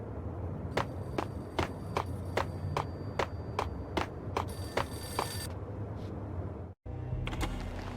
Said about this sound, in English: A payphone started to ring.